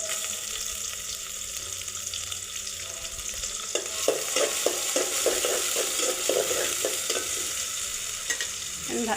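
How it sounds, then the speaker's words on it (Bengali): Chopped onions sizzle in hot oil in a pan while being stirred, with a steady frying hiss and a run of rhythmic scraping strokes from the middle onward, close and clear. "পেঁয়াজগুলো ভালো করে ভেজে নিব"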